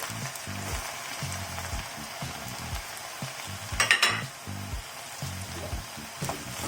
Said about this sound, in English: I'll now add the ginger and the garlic.